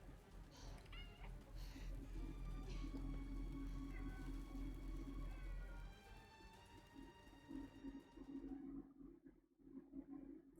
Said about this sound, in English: Of course my cat is back, so.